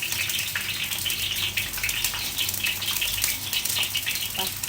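Potatoes fry in hot oil in a pan for a minced meat dish, giving a steady, close, unbroken sizzle with no talking.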